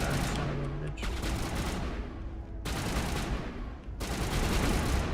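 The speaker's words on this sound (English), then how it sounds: "who's shooting me already?" Gunfire in the video game Mass Effect Legendary Edition, dense rattling bursts of weapon fire that cut off abruptly twice and resume, loud and close throughout.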